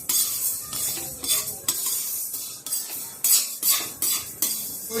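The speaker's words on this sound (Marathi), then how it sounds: "आता मेथे पण आपल्याला व्यवस्थित भाजून घ्यायचे आहे." Fenugreek seeds are dry roasted in a pan and stirred, with repeated scraping of a spoon against metal and light rattling of seeds in irregular bursts, close and clear with no talking.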